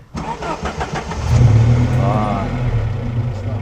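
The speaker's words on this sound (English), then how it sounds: "So starting this car, it's got like this slow start up to it." A 1989 Alfa Romeo Spider engine cranks slowly with a few rapid starter pulses, then catches and settles into a loud, rumbling idle, close by.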